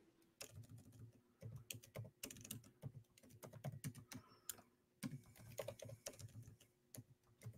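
Rapid, uneven keystrokes clatter on a computer keyboard, close and clear, with short pauses between bursts and no talking.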